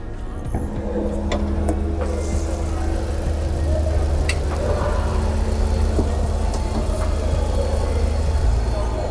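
A Suzuki XL7 Hybrid's K15B petrol engine runs steadily at a low idle close by, a continuous mid-pitched hum with a faint rattle and no voices.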